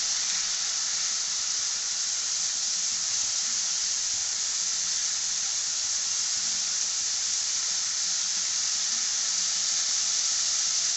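Green chilies frying in hot oil in a pan for a spicy country-chicken curry, giving a steady, close, continuous sizzling hiss that holds evenly from start to finish with no voices.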